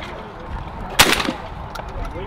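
A Benelli SBE3 28-gauge shotgun fires once at a clay target at an outdoor expo range, a single sharp crack with a short echoing tail over steady background noise.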